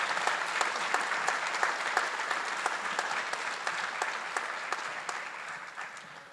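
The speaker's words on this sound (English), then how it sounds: "let's please give your battalion chiefs a congratulatory round of applause" A ceremonial audience claps steadily for newly promoted fire battalion chiefs at a county fire and rescue promotional ceremony, a dense even round of applause that holds for several seconds and gradually thins toward the end.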